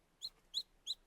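A little bird gives three short, thin, high cries, evenly spaced and faint against a quiet background.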